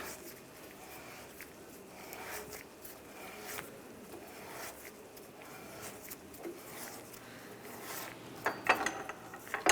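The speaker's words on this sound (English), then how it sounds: "And we can lower the screw jack." Screw jack being lowered under a 2011-2018 Ram 1500 during rear lower control arm replacement: a steady run of close mechanical ratcheting and grinding clicks with some clanks toward the end.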